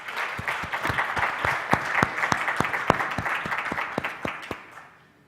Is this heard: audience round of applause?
yes